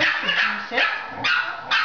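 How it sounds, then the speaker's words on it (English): Little puppies yip and bark in short repeated bursts in the background while someone speaks to a Yorkie during teeth brushing. "Those are little puppies in the background."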